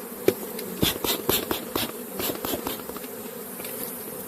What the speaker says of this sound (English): I just shake off a few bees.